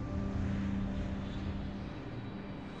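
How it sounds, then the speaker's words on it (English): Aeroplanes passing overhead on landing approach with undercarriage lowered, a steady broadband engine roar that stays loud and continuous throughout, slowly easing toward the end. "the aeroplanes open their undercarriage around about now"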